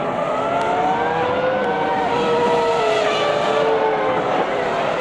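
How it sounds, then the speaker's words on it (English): A Toyota Formula One car at the 2002 US Grand Prix screams at high revs in top gear, its sustained engine whine sliding slowly in pitch as the motor fades, loud and close from on board. "the motor here in the Toyota starting to really fade now"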